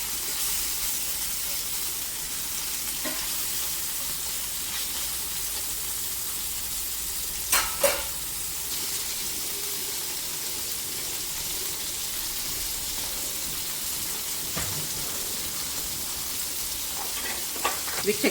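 Tandoori chicken fries on a flat tawa with a steady, dense close sizzle throughout, and a couple of brief clinks of a utensil partway through.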